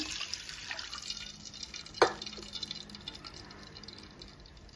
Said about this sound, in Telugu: ఇవి అదే కళాయిలో వాటర్ పోసానండి ఒక గ్లాస్కి